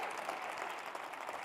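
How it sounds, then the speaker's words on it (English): Applause from a corporate audience, a soft, distant, even wash of clapping held steady throughout with no voices over it. "a round of applause for what Jim has done."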